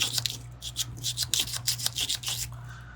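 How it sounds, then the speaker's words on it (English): A small brush scrubs a vintage Swiss Army knife in quick, close, rasping strokes, about a dozen in three seconds, over a steady low hum. "On this tool, I can actually fit into there with the small end of the brush."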